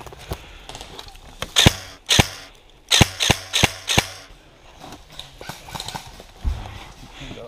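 Airsoft guns fire BBs at an outdoor game, a series of sharp snapping pops, several in quick succession then a few scattered shots, close and loud, with soft talk in the background.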